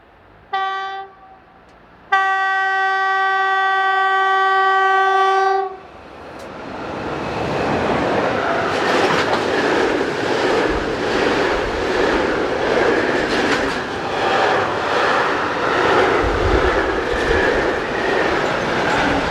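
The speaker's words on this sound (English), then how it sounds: "The oldest Class 155 in operation is 155004 and attracts the attention of a member of the local platform staff as it heads this eastbound mixed freight" A Class 155 locomotive heads an eastbound mixed freight train on the Hannover to Magdeburg main line in Germany, opening with a loud sustained multi-tone horn blast followed by the steady rumble and clatter of passing wagons, close and continuous.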